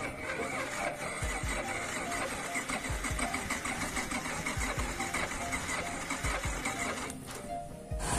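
A motorbike with a dead battery is cranked on the starter, giving a steady mechanical whir with repeated low thumps at a regular rhythm as the engine tries and fails to catch, close and fairly loud throughout.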